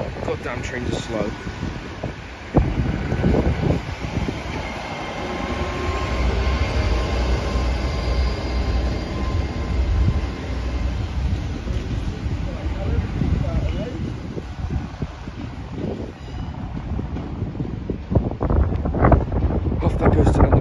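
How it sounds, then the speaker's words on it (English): A Great Western Railway passenger train to London Paddington rumbles and clatters as it pulls away from Gloucester station, with wind buffeting the microphone and voices talking intermittently over the steady rolling noise. "Going out now is the 1316 Great Western Railway service to London Paddington."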